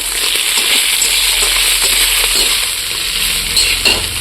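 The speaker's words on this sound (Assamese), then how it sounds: "এয়া মাছো ভাজি আছোঁ" Loud, dense sizzling of local fish frying in a pan, a constant crackling hiss close by with occasional spatters.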